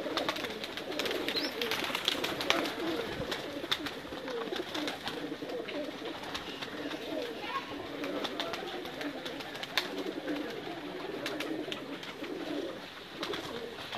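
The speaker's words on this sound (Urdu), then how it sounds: "بہت پیارے کبوتر ہیں چوئی صاحب دے" Breeder pigeons coo in repeated soft, throaty calls over a steady background of rustling and scattered clicks, several birds close by and overlapping without pause.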